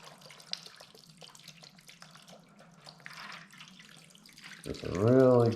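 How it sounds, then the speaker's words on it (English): Liquid sloshing as a graphics card is swished around in an alcohol bath, soft splashing and trickling under a voice, ending in a louder surge of movement. "swish that all around. There we go. Nice alcohol bath."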